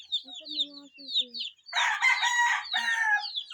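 A rooster crows loudly and close in a chicken coop, a full crow following softer clucks and chirps from hens and chicks around it.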